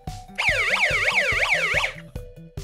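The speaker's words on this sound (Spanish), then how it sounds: "E inmediatamente se enciende la sirena." A DIY light-sensor alarm built from a DOKA construction kit shrieks with a loud electronic siren, its pitch sweeping up and down in rapid repeating wails, then stops abruptly and gives two short bursts, sounding alone and close.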